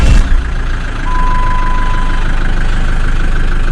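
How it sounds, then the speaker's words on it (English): A Jeep Wrangler 2.8 CRD diesel engine cranks briefly and fires, then settles into a loud, steady idle with a low, rough rumble, heard up close just after an oil service. "It's always nerve-wracking, isn't it, starting a car after you've just filled it with oil."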